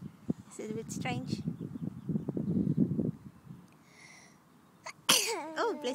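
A single sharp sneeze bursts out loudly near the end, after a stretch of casual conversation about sitting outside on the grass, with voices talking before it and just after.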